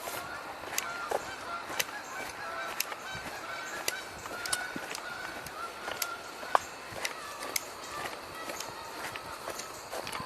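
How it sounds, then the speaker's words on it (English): Geese honking as they fly in, a flock calling in repeated sharp honks spread across the whole stretch, fairly faint and distant outdoors, with soft footsteps close by. "I hear more geese coming in."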